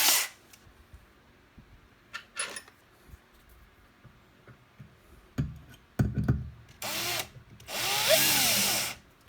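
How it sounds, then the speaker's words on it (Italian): A Parkside cordless drill driver runs in short whirring bursts as it drives a screw, with quiet clicks and handling noises between them. The last two bursts are the longest and loudest. "Vediamo il precedente se riesce pure ad avvitare allo stesso modo."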